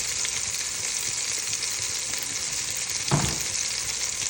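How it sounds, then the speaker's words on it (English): Beef braciole searing in a hot pan, a dense, even sizzle with one brief louder crackle near the end, close, no speech. "I'm gonna sear this on both sides, just brown it really quick"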